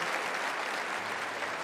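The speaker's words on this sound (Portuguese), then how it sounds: "Pode aplaudir se você crê nisso." A church congregation claps steadily together during a sermon, a dense, even wash of applause heard at moderate distance, with no talking over it.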